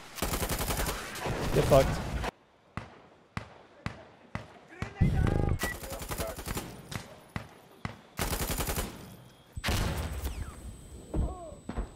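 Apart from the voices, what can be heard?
machine gun fire in the video game Insurgency: Sandstorm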